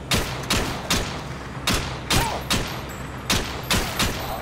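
Loud gunfire in a video game, including a headshot: about ten sharp, punchy shots spaced unevenly over several seconds, each with a short echoing tail, and no talking.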